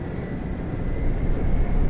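A deep, steady aircraft engine roar that swells slightly louder toward the end, with no voices over it.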